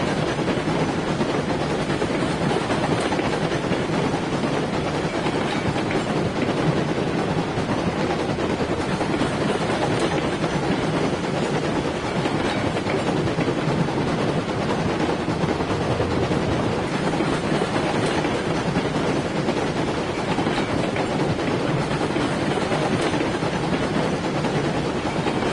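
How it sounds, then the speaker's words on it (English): The biggest steam locomotive in Railroads Online, on the Mesa Plains map, runs with a dense, continuous rumbling roar that stays steady and loud throughout, with no talking. "get the biggest locomotive in the game"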